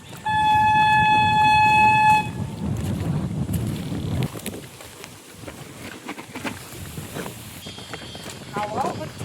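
River wind in the Sundarbans buffets the microphone in low, rumbling gusts, strongest early on. A sustained tonal horn sounds at the start, and people talk over the wind.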